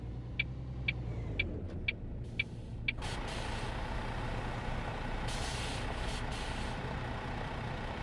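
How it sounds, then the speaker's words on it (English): Trucks on a road in the driving game On The Road, with a series of evenly spaced beeps followed by a steady engine rumble and passing traffic noise that holds at a moderate level. "Plenty of trucks going our way."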